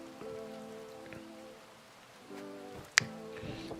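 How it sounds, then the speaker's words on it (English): Rain effect from the video game Insignia: a steady, light hiss of falling rain layered over low tonal hum that drops out briefly midway, with one sharp click near the end and no voices. "it's not really raining that hard either"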